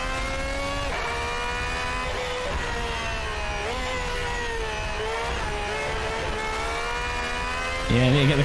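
A race car engine in the racing game Assetto Corsa, revving and holding a whining tone with repeated gear shifts, steady and loud throughout, ending with a sharper rise.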